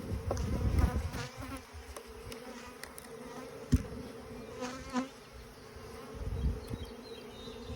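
Honey bees buzz in a dense, continuous drone inside a shaken bee package with the queen cage, close and steady, with a few louder bumps and knocks from handling.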